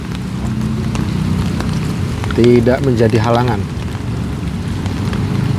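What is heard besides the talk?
heavy rain during a storm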